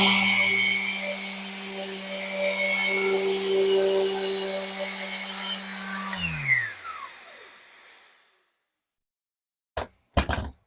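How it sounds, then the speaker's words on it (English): A Festool sander whirs loudly and steadily against the edge of an ash tabletop, then spins down with a falling pitch and stops, followed by silence and a couple of short knocks. "I'll just sand this edge down to break it so it doesn't stay so chippy"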